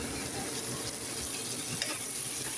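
Garlic and onion frying in a pan, a steady close hiss and sizzle of hot oil with no pauses, even in level throughout.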